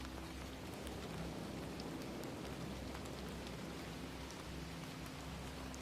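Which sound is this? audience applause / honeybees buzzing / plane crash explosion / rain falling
rain falling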